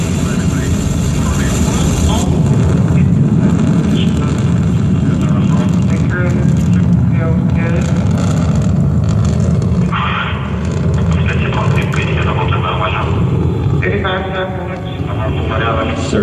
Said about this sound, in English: The Soyuz delivering 102 tons of thrust from its 4 boosters and single engine.